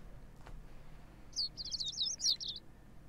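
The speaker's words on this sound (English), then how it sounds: "The sound of birds chirping slowly raises me from my dream into consciousness." Birds in the Code: Realize video game chirp in a quick high run of about eight tweets. The chirps sit over a quiet ambient background, with no talking.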